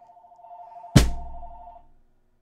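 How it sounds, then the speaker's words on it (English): A telephone rings with a steady warbling tone in a drum practice room, then a single heavy drum hit lands over it and the sound decays away. "Oh, boy, I forgot to put the phone out."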